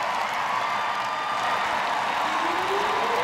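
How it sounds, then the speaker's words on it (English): A stadium crowd at a Seattle Reign FC versus Boston Breakers women's soccer match roars continuously after a goal, a dense, loud wash of cheering and clapping that holds steady throughout. "Crowd's going wild."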